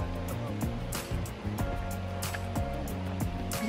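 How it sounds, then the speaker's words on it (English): Steady broadband rush of a waterfall flowing near a mossy cave on a hiking trail, continuous and fairly loud with a faint engine-like hum beneath and no talk. "Ganda ng waterfalls."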